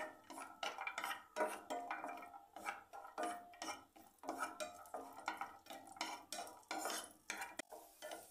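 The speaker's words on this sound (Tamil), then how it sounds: "முந்திரி திராட்சை நல்லா ஃப்ரை ஆயிடுச்சு நெய்யில்" Cashews and raisins frying in ghee are stirred in a pan, a rapid run of metallic scrapes and clinks over a faint sizzle, quiet and close.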